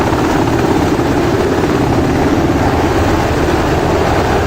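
A helicopter lifts off past a crane in the flight simulator DCS World, on the Persian Gulf map. Its rotor and engine drone are loud and constant, close up with no speech.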